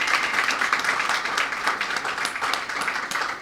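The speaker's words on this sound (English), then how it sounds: "Let's give him a bigger round of applause." Audience applause at a launch event for an education programme in Belize, a dense, even wash of many hands clapping that holds steady and fairly loud throughout without pause.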